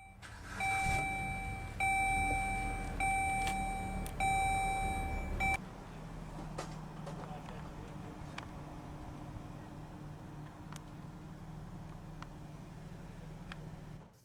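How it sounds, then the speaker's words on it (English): A Dodge Journey with the base 4-cylinder engine starting up: a series of repeated electronic chime beeps gives way to a low, steady engine idle hum that continues quietly to the end. "here's the Journey with the base 4-cylinder engine starting up"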